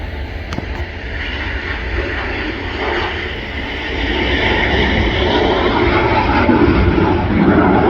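An Atlas Air Boeing 747 jet rumbles along the runway at Manchester Airport, a loud, steady engine roar that builds slightly in the second half, heard from nearby and without talk.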